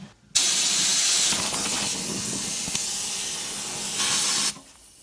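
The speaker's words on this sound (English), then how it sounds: "when you get your other sprayer nozzle on, that you hold it right tight against that and really inject it into that seam the best you can" A rustproofing sprayer nozzle blasts into a vehicle seam, a loud steady hiss that starts abruptly, holds for about four seconds and cuts off sharply.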